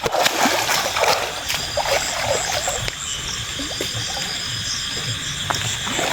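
Someone dives into a lake or river with a splash, leaving a continuous wash of rushing, trickling water that stays fairly loud and close throughout.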